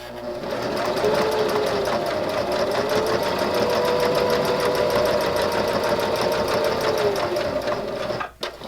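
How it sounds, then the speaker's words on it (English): A sewing machine stitches fabric for a silverware pocket in a loud, continuous whirring run of rapid needle strokes for about eight seconds, then stops with a few brief clunks. "your machine should do fine"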